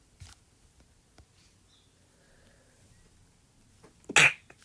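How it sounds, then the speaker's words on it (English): A single sharp sneeze bursts out near the end, loud and close, after a few seconds of quiet room tone with faint small noises during a math lesson. "Oh, that was a sneeze."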